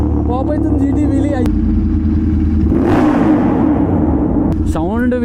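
Royal Enfield GT650 twin-cylinder motorcycle revving hard as it pops a wheelie; a loud, steady engine drone rises in pitch, with a rushing surge near the middle and climbing rev tones at the start and end.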